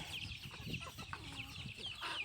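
Farm chickens cluck and call steadily at a low level, several birds overlapping in a continuous background chatter with no talking.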